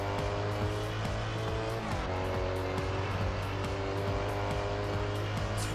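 A car in Test Drive Unlimited drives hard with a steady, loud engine drone and shifting pitch as it revs, with tire squeal and a few clicks throughout.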